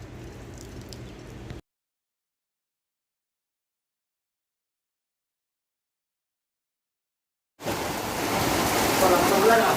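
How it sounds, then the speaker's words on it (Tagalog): Heavy rain pours during a morning commute in Saudi Arabia, a dense roaring hiss that cuts out into several seconds of silence and then returns louder and steadier. "Ayan, umuulan guys."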